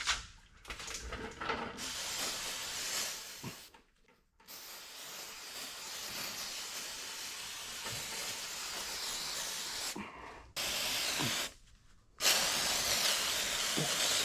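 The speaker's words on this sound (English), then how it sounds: "Let's just spray that too." An aerosol cleaner hisses in long steady bursts over the oil pan of a 2008 Mazda CX-7, close and continuous, broken by a few brief pauses between sprays.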